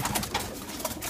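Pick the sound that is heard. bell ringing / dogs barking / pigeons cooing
pigeons cooing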